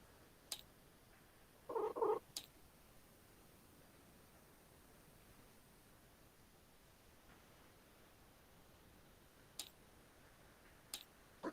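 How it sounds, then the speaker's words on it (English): A cat purring faintly in a quiet indoor room, a soft, steady low rumble broken early by a short, louder burst of sound and a few isolated light ticks. "Loud kitty."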